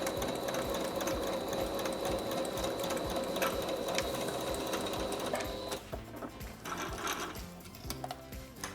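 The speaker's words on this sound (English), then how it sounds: "So I'm just gonna go ahead and put a stitch in the ditch on one side seam." Sewing machine stitching in the ditch at the side seam of an elastic tunnel waistband on a sunburst skirt, a steady close rapid whir of stitches that stops near six seconds, then brief handling clicks.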